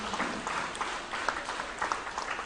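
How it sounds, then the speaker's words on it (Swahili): A church congregation claps to welcome guests during a Sunday service at Nyamataro PAG, producing soft, fairly distant applause with a few sharper claps standing out. "wapigie wageni makofi."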